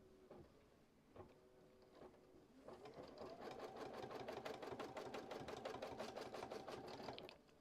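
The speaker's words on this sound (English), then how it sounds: "So we're going to stitch on that stabilizer." An embroidery sewing machine stitches a placement line on stabilizer, starting with a few clicks and mechanical clunks before settling into a fast, steady rattling needle rhythm that runs for several seconds, close and fairly quiet.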